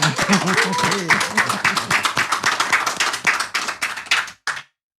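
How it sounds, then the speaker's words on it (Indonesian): A crowd claps in a dense, lively burst of applause with voices calling out over it, then the clapping cuts off abruptly. "tepuk tangan buat Camelia Malik"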